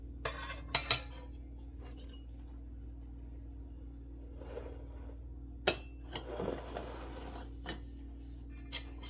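A metal butter knife scrapes and clinks against the rim of a mixing bowl in a few quick bursts while rendering tallow, then a couple of sharper scrapes later in a quiet room.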